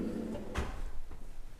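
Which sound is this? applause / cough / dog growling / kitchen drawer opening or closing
kitchen drawer opening or closing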